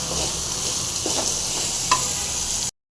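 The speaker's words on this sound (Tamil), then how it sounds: "இந்த வெங்காயம், இந்த பூண்டுலாம் வந்து நல்லா ஃப்ரை ஆகிடும்." Onion and garlic fry in a pan, a close, even sizzle with light stirring scrapes and a brief clink near the end, then abrupt silence.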